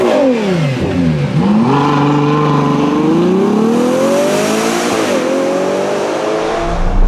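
A Ferrari Purosangue's naturally aspirated 6.5-litre V12 revs hard, loud and close, rising and falling in pitch through several sweeping surges before settling.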